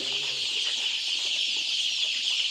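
A large flock of black chickens and their chicks, thousands of birds, fills the air with a dense, continuous chorus of high peeping and clucking that stays steady throughout.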